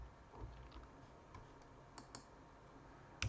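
Faint, sparse clicks of computer keyboard keys as a short symbol is typed into a code file, ending in a louder keystroke, very quiet and close.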